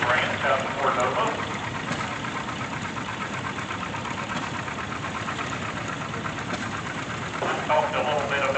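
A 1951 Formula M farm tractor idles steadily during a steam and gas association grand parade, a low continuous engine rumble close by, with a voice announcing over it.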